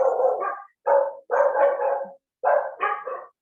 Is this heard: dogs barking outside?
yes